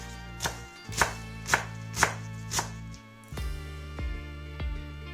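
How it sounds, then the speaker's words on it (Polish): A knife chopping beet leaves finely for a chilled beet soup, with five sharp, evenly paced thuds on a cutting board followed by a quicker run of lighter cuts, close and distinct. "Liście siekam też w sumie dosyć drobno, żeby się zbytnio tam w zupie nie ciągnęły."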